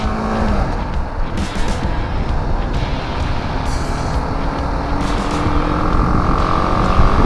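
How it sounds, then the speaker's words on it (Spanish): A BMW G310 GS motorcycle engine strains while climbing a gentle uphill stretch, a steady loud drone that holds for the whole stretch with rising pitch near the end and road and wind noise mixed in. "Pero escuchen el motor, se escucha muy forzado."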